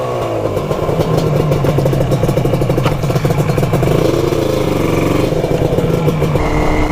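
A Yamaha R5 RD350 two-stroke cafe racer motorcycle being ridden, its engine buzzing loudly and continuously with shifting pitch as it revs and changes gear, close to the microphone with wind rush.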